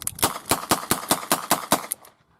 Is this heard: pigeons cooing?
no